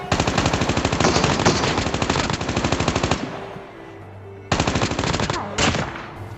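Automatic gunfire in Call of Duty Mobile, a loud rapid burst for about three seconds, a pause, then two shorter bursts close by.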